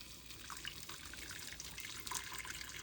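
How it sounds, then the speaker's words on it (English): Thin homemade sriracha sauce pours into a strainer set over a pan, a soft steady liquid trickle and splash with faint drips, quiet and with no talking. "we're going to start by pouring it right into that strainer."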